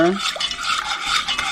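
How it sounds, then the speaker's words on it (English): A spoon stirs cornstarch thickener into gravy in a metal pan, with close scraping and swishing strokes in an uneven rhythm and no talking. "Stir."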